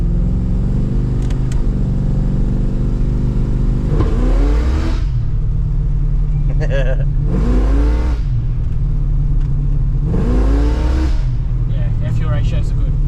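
A freshly built 6-litre V8 in a Holden VN Executive idles with a deep, steady rumble, then revs up three times in strong swelling bursts, close and loud, while people talk over it.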